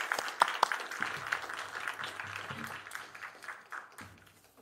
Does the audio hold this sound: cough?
no